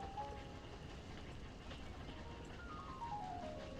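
Train noise played as a sound effect during a tabletop horror role-playing game session, a steady low rumble with faint rising and falling whistle-like tones, continuous throughout at low level.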